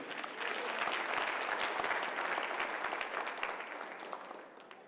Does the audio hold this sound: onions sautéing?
no